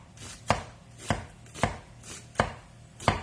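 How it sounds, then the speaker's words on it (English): Knife slicing three quarters of an onion thin on a cutting board, six evenly spaced crisp chops in a steady rhythm, close and distinct with no talking. "I'm using 3/4 of an onion. And I am gonna slice this up"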